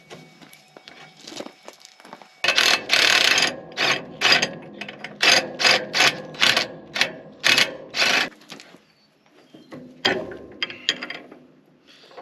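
Pneumatic rattle gun driving bolts on a tractor in bursts: a run of rapid, loud hammering pulses of roughly half a second each with short gaps, then quieter scattered rattles after a lull, close up with no talk.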